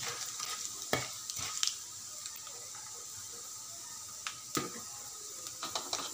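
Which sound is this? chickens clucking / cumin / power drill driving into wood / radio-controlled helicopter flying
cumin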